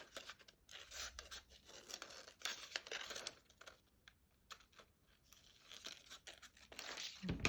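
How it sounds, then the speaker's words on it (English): Scissors snip and crunch around a die-cut wedding heart card while trimming it out, a steady run of close, crisp cuts and paper rustles with no talking. "I am just going to whiz round with scissors"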